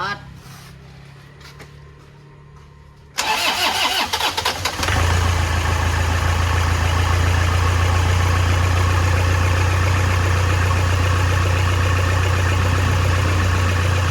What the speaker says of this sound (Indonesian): Kita coba tes hidupkan dulu teman-teman. Coba starter.